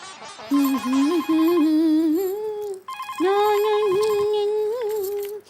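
A warbling electronic phone ringtone plays in two long bursts with a short pause between, loud and close, with no talking.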